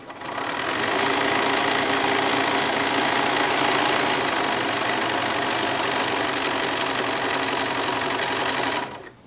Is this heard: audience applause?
no